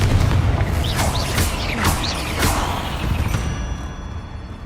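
Bombarda and Confringo spells in Hogwarts Legacy going off as a string of sharp blasts with whooshing streaks, several close bursts in quick succession fading into a softer tail.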